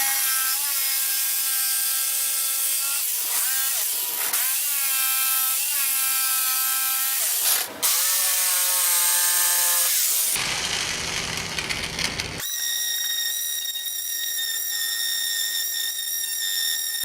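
A power saw cuts through a scrap 2x4 of wood, its harmonic motor whine holding steady and dipping in pitch as the blade bites, then a rougher, noisier stretch of cutting before the tone settles again, close and loud with no talking.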